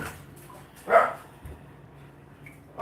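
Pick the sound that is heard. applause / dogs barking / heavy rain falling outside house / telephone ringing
dogs barking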